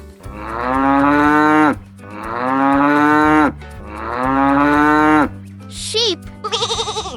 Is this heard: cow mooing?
yes